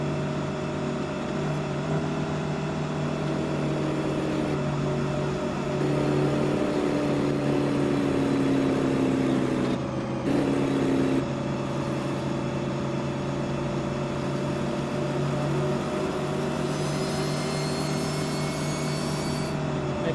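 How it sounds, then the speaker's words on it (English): A Battle Truck engine in American Truck Simulator drones steadily for the full stretch, its pitch rising and shifting through gear changes with a loud whirring tone and no speech over it. "even with the Battle Truck engine, there's no shortage of power, speed, acceleration, torque."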